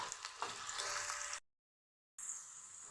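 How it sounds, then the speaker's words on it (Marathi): Small potato pieces frying in oil in a pan until golden, a soft hiss and crackle that cuts out to silence briefly before resuming, with no talk. "एक छोटा बटाटा घेतलेला आहे याला मी छान असं यामध्ये छान गोल्डन कलर येईपर्यंत असं परतून घेणार आहे"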